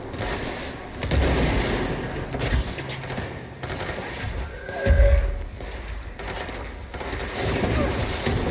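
Gunfire in the action video game Control, with several bursts of shots scattered across the stretch over a dense, noisy game soundscape.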